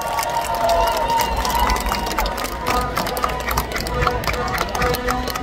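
A large crowd at a Lee Jae-myung presidential campaign rally in Jamsil Sports Complex claps and cheers in a continuous, roaring wash of noise that stays loud throughout.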